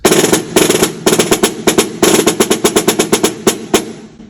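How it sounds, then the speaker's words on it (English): A snare drum plays loud, crisp rapid strokes in quick bursts and rolls, bright and close, with sharp rattling accents. "These are snare drums."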